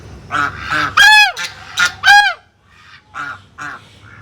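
Large ducks honk loudly and repeatedly nearby on a farm in Gurgaon, a series of harsh calls with short pauses between them.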